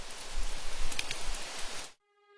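Heavy rain pours steadily during a violent nor'wester storm, a dense hiss with uneven gusts, loud and close, then cutting off abruptly near the end.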